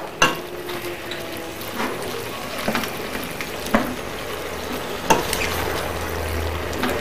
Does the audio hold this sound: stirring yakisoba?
yes